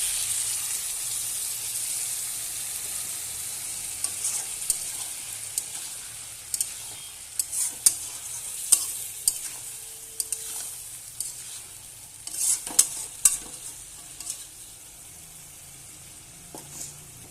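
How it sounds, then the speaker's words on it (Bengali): Hot water poured into a pan of spice paste for a hilsa fish curry with green banana and potato, giving a steady soft sizzle and hiss broken by scattered scraping clicks as a spoon stirs. "তো এখানে একটু আমি সামান্য গরম জল ব্যবহার করব, যাতে মশলাটা লেগে না যায়।"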